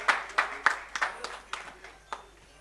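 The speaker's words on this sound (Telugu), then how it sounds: "అందరం చప్పట్లు కొడదాము ఒకసారి" Audience clapping at a theological university doctorate ceremony, sparse and uneven with a handful of distinct claps spaced apart, moderately close, fading toward the end.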